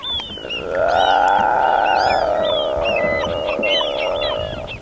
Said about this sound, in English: Those are seal noises.